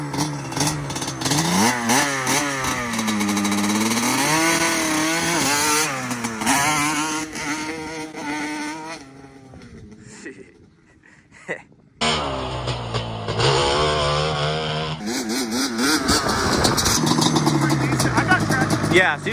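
A Yamaha Banshee or Blaster ATV engine revs hard, rising and falling through gear pulls with a brief drop and shift in the middle, loud and close; people talk over it.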